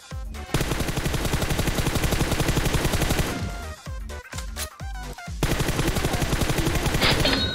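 Dense rapid gunfire from PUBG Mobile during a squad fight on the Sanhok map, loud and close in sustained bursts, with a brief ragged pause of scattered shots midway before the heavy firing resumes.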